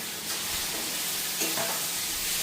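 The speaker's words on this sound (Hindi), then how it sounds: "मैं इसमें सोयाबीन और उबले हुए आलू डाल दे रही हूँ।" Soybeans and boiled potatoes fry in masala in a hot pan, giving a steady close sizzle broken by brief stirring scrapes, with no talking.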